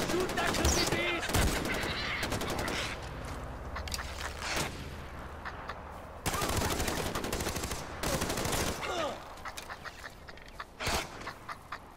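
Guns rattle in Far Cry 4 as a honey badger is shot at, with dense bursts of loud rapid gunfire that come in clusters and break off between volleys, and a few short gaps of quieter game noise.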